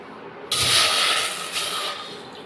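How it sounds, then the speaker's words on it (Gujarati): Water poured from a small pot into a pan on a gas stove to cook Maggi noodles, a sudden loud steady rush of pouring that starts abruptly and continues without talk. "હવે આપણે આમાં પાણી નાખી દઈશું"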